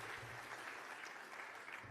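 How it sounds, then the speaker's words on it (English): Audience at the Claremont Institute's 40th anniversary gala applauds in a dense, sustained wash of clapping that carries evenly throughout. "There is nothing as nerve-wracking as that much applause before you speak"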